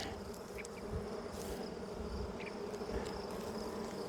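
Honey bees buzz during a hive inspection, with a steady dense drone close by and individual bees passing near now and then, and no talking.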